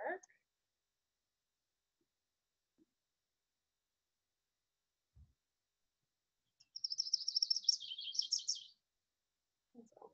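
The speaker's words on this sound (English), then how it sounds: "can you play the chestnut-sided warbler?" Chestnut-sided warbler song played back as a recording: one bright, high run of rapid chirped notes lasting about two seconds, alone in near silence apart from a few faint clicks and brief voice fragments at the start and end.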